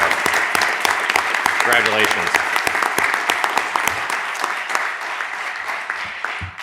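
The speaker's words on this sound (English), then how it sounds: "Let's give him a round of applause" A round of applause breaks out at a regional transportation commission board meeting, with a crowd's steady, close clapping throughout while a voice speaks briefly over it.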